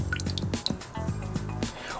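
Milk being poured into a blender for a dirty banana rum cocktail, a short run of dripping, gurgling liquid sounds heard up close, with no voices.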